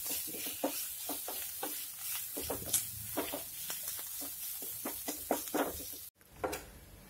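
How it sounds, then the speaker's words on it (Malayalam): Onions frying in ghee for prawn biryani, a steady close sizzle broken by scattered crackles and pops throughout, with a brief pause near the end before the frying resumes. "സവാള നന്നായിട്ട് വഴന്നു വരുന്നുണ്ട്"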